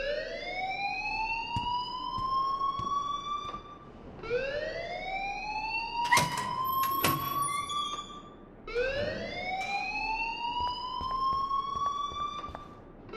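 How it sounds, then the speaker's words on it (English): A rising and falling siren-like alarm wails repeatedly in the video game Life is Strange, three long sweeping cycles that are steady and prominent, with a few sharp clanks midway. "please turn off that alarm since that's your job"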